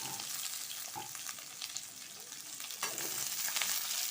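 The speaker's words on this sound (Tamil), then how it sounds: "இப்போ வந்து இந்த குடமிளகாயும் வெங்காயத்தையும் இதில் போட்டு வதக்கி எடுத்துக்க போகிறோம்" Chopped capsicum and onion sauté in hot oil in a pan, giving a steady, close sizzle with occasional crackles and stirring scrapes throughout.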